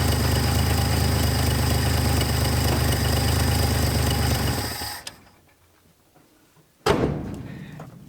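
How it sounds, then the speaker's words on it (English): An old 300,000-mile farm truck with a carburetor leaking fuel idles in a loud, even, rumbling run, then shuts off into quiet, followed by a soft thud and a sharp door-like slam. "Listen to that. It's idling."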